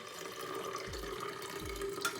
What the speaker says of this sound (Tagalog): Lagay ko na yung tubig.